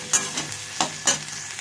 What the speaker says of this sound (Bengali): কুচো পেঁয়াজটা দিয়ে আর একটু ভালোভাবে ভেজে নিতে হবে